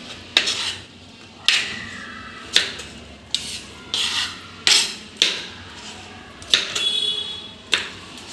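A kitchen knife trims and slices okra on a cutting board, giving about nine crisp knocks at an irregular pace, each followed by a short scraping rasp, close and clear with no talking.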